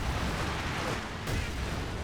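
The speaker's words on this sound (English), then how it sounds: "And another incendiary barrage straight there on the positions here." Incendiary artillery barrage striking positions in the Company of Heroes 2 strategy game, a dense rumbling wash of blasts and crackle sustained throughout with a sharper burst midway, fairly loud and continuous.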